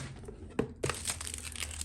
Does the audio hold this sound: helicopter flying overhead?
no